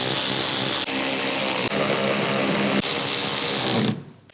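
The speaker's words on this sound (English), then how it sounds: "I'll grab my auto ratchet and let the robots take over." An electric auto ratchet drives fender liner bolts on a RAM 1500 during a suspension lift install, giving a loud, steady high-pitched whir with brief catches before it stops and falls quiet at the end.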